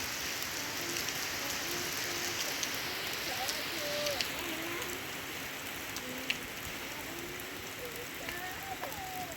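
Steady rain falling, a continuous wash of hissing patter with faint scattered bird calls in the background.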